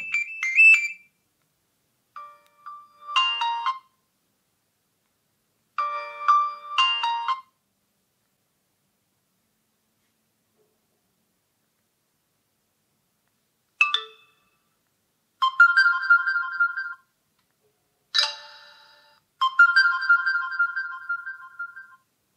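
Several short phone ringtone melodies from a Bluboo S8 smartphone play one after another, each a bright electronic jingle separated by pauses of silence.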